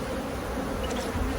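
Honeybees buzz steadily throughout a summer beehive inspection, a dense, continuous drone close to the open frames of brood and honey, with no talking.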